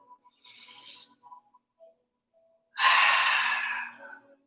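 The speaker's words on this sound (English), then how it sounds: "Breathing." A forceful exhale during a restorative yoga practice, heard as a long, loud breath out through the mouth after a few quieter breathy sounds and soft noises.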